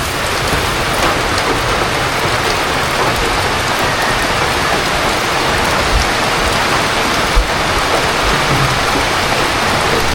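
Steady heavy rain pours down at a fishpond, a dense, loud, continuous hiss of drops hitting water and surfaces nearby, with no voices.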